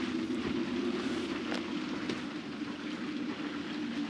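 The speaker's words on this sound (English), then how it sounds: "And it's raining really badly." Heavy rain drumming steadily on a moored sailboat at a Mediterranean marina in winter, a continuous dense hiss with a low droning undertone and occasional louder patters, no voices.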